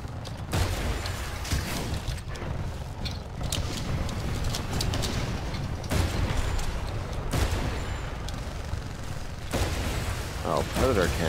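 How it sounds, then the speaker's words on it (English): Rapid heavy gunfire from a Legion titan's Predator Cannon in Titanfall 2, a dense continuous volley of booming rounds with explosions mixed in, loud throughout while a voice talks over it. "Oh, predator cannon."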